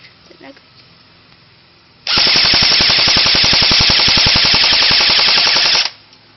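A long, rapid burst of full-auto fire from an RK-47 airsoft rifle, loud and close, rattling steadily for nearly four seconds before stopping abruptly.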